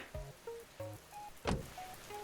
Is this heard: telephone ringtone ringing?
no